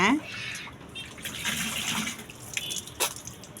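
Water is poured and splashes as it spills, with uneven gushes and spatters close by, mixed with brief talk.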